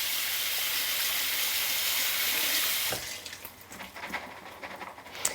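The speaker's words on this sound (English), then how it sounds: "I'm going to drain a tin of chickpeas and give them a rinse" Water from a tap runs loudly over a tin of chickpeas being drained and rinsed in a sink, a steady hiss for about three seconds, then it stops and gives way to softer clinks and shuffling.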